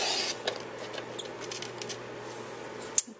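Scissors scrape and snip through card along the black grooves of a Cricut-cut tool box shape card, soft rubbing cuts close by with a sharp snip near the end and no speech.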